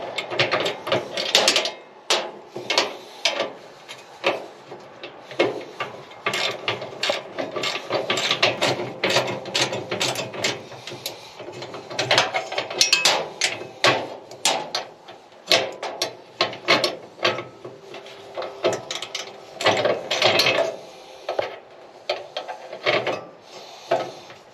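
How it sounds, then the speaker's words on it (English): A hand ratchet wrench clicks in rapid uneven bursts while working on a fuel tank fitting in a truck bed tool box, close and loud with brief pauses between strokes. "Let me get my ratchet going the right direction here."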